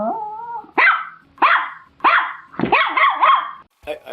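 A small dog yaps in a quick series of sharp, close barks, several spaced bursts cut together with abrupt edits and a brief lower growl-like tone at the start.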